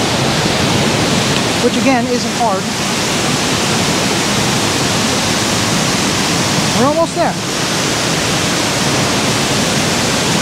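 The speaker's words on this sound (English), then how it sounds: "this waterfall has a lot of power behind it" A powerful waterfall at Ricketts Glen State Park roars in a loud, unbroken rush close by, while someone talks briefly over the din.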